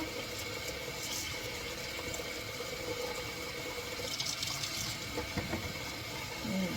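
Water runs steadily from a tap while plastic tupperware containers are rinsed in a sink, a constant splashing hiss with faint clinks and knocks of the containers.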